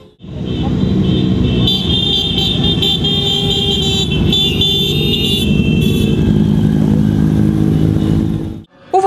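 Motorcycles ride through city streets on Independence Day in Sievierodonetsk, a steady loud engine roar with occasional horn toots, sustained for several seconds before cutting off.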